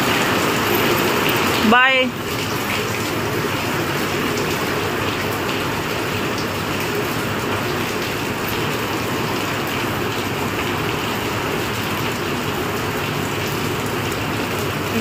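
Heavy rain pours down steadily in a dense, continuous roar close by, with a brief clunk and a short spoken word near the start, then unbroken downpour to the end.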